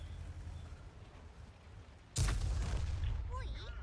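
A KV-1S tank cannon fires a high-explosive round in World of Tanks, one sudden heavy boom after a stretch of low engine rumble, followed by a lingering roar and faint whistling tones, with speech in the mix.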